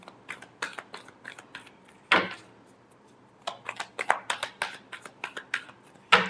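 Tarot cards being shuffled by hand, a run of crisp close riffling flicks and snaps, broken by a short quiet gap before more rapid flicking.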